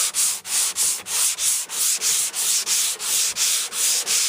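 A hand sanding block rubs 80-grit paper over primer on a panel in steady back-and-forth strokes, about fourteen rhythmic scratchy passes, close and clear, with no voices.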